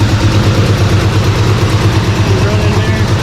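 A revived 1970 Chevrolet C10 pickup with an exhaust leak idles loud and close, a steady low throbbing rumble with a regular pulse.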